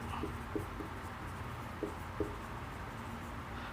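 Handwriting during a lesson, heard as faint scratching with a few soft taps over a steady low room noise.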